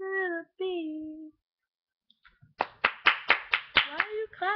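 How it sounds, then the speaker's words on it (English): Roughly eight sharp hand claps in a steady beat, loud and close, following a voice singing a held tune near a pop song, with a short silence between them. "Why are you clapping?"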